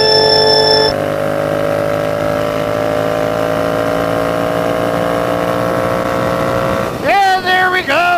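Motorcycle in 6th gear pulling from 80 to 100 mph, a loud sustained engine whine climbing slowly in pitch over several seconds, then a quick rise and fall of revs at the end.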